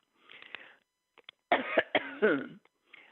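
A string of harsh, raspy coughs at close range, several bursts in quick succession after a quieter throat-clearing sound, with short pauses between.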